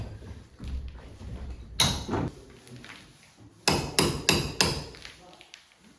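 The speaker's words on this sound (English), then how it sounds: "chipping out the concrete from these walls" A hammer chips concrete off the interior stone walls of a house: a few sharp, loud, ringing impacts arrive one at a time, then a quick burst of four strikes, all over quiet room ambience.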